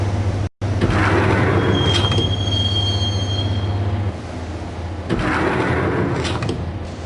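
A train rides toward a station in the video game Max Payne, with loud, steady rolling rumble and sustained high metallic wheel squeals, a brief dropout near the start, then a lull before the rumble and squealing swell again.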